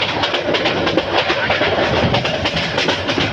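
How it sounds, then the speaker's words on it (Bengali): A train rushes along at speed, with a steady loud roar and rhythmic clatter of wheels on the rails, close by and continuous. "আর ট্রেন প্রচণ্ড গতিতে সামনের দিকে গিয়ে চলছে"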